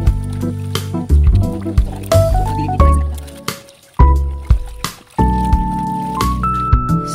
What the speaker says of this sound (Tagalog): At sinimulan na po namin ang pagbabanlaw.